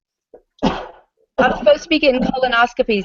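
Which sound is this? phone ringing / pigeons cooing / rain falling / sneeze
sneeze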